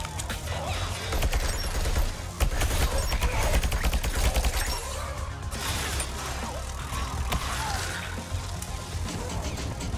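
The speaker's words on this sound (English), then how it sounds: "Ooh, turrets are doing work." Turrets firing in a video game: dense, continuous rapid gunfire and crashing impacts fill the scene, loud and close, with mechanical clatter and no clear gaps.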